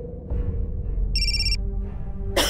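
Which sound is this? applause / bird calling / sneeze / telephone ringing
telephone ringing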